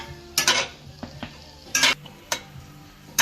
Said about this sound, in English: Then we just kind of stir it up. I'm going to raise our heat just a little bit, probably like a medium high. Just kind of stir it around.